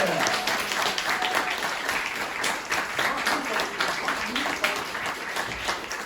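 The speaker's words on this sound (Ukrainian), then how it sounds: "під ваші оплески" A live audience at a Ukrainian singing competition round in Khmelnytskyi applauds continuously, a dense, steady wash of many hands filling the room, with some voices and cheers underneath.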